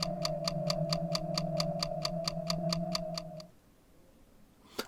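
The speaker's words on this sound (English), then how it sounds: "Clock is going crazy." A clock ticks rapidly and evenly in the video game Silent Hill 4, a steady run of about fifteen crisp ticks over a low droning tone, then both stop abruptly, leaving faint quiet hiss.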